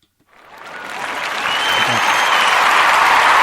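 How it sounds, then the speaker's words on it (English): Applause from a crowd starts abruptly from silence, quickly swelling into loud, full clapping that keeps building and holds strong to the end, with a brief voice or cheer partway in. "I got to give him a round of applause."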